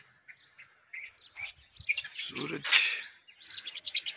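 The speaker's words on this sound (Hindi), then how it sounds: "वो जो नए कॉकटेल हैं ये वही उड़ रहे हैं ऊपर ऊपर" Pet cockatiels chirp in quick, bright bursts, some notes sharp and close, others scattered as the birds fly about overhead outdoors in hot sun, with a brief low voice in the middle.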